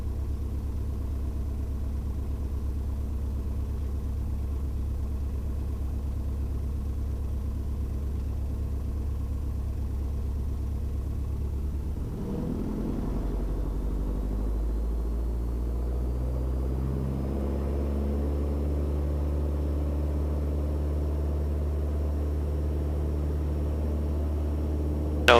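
Light aircraft engine on a runway, a steady low drone that deepens and grows fuller partway through as power comes up for the takeoff roll, continuous and close with no talk.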